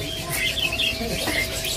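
Sooty-headed bulbuls (kutilang) in a bird shop give light, scattered chirps over a steady background of shop noise.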